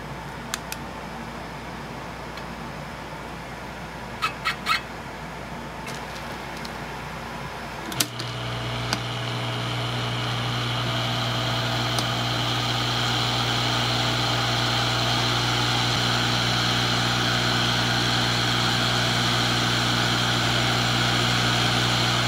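A hot air rework station desoldering a chip from a mid-2012 13-inch MacBook Pro logic board blows with a steady airy whoosh and hum that swells after a click and then holds evenly.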